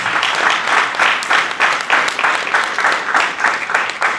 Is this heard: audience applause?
yes